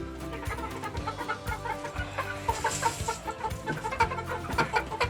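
Chickens on a Canadian homestead cluck repeatedly in short, close bursts, with busy overlapping calls from several birds throughout.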